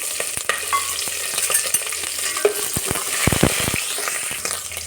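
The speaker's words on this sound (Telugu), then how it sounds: "ఉల్లిపాయ ముక్కలు వేసుకున్నాము." Chopped onion pieces frying in a pan for hotel-style sambar, a continuous close sizzle broken by sharp scraping stirs and clatters, with a run of louder knocks near the end.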